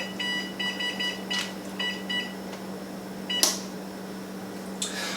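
An oven control panel beeps as its temperature is turned down to 375, with several quick series of short electronic beeps over a low steady hum, plus a sharp click.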